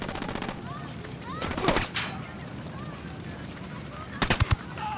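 Gunfire in Tom Clancy's Ghost Recon Wildlands during a fight near a barn: short rapid bursts of shots, one early and a tight volley near the end, mid-distance over game ambience.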